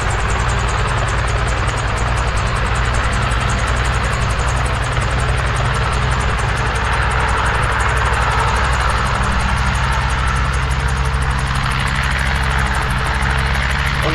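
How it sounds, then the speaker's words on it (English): Guimbal Cabri G2 helicopter engine running up as the throttle opens, a loud steady turbine-like drone with heavy low rumble and rotor hum that holds constant throughout, no talk. "let's open throttle, governor should engage, and R400."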